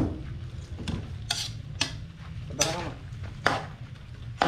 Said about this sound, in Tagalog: Haluin natin mabuti mga kanter.